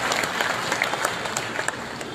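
A crowd at a party workers' gathering in a grain market claps loudly and continuously to welcome Om Prakash Chautala, a dense, even roar of applause with no break.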